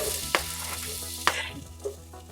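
Onion and garlic sizzling in hot oil in a pan, a soft continuous hiss broken by a couple of sharp utensil clicks as they are stirred.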